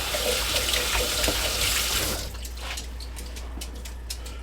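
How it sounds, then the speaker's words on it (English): Tap water runs steadily over drained canned black beans for brisket chili, a full rushing stream for about two seconds, then a quieter trickle with light drips and rattles, close with no talking. "I drain them and rinse them."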